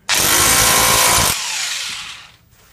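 Hammer drill chiselling into an office wall, a loud harsh rattling roar starting abruptly and running about a second, then dropping to a quieter winding-down whir that fades out.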